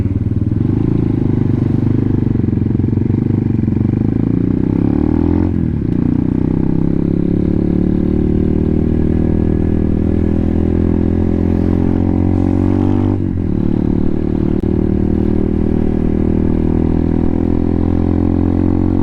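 Honda Hawk 250 motorcycle ridden in second gear: a loud, close, steady engine drone with rising pitch as it accelerates, two brief dips where the revs drop before climbing again, with wind rumble throughout.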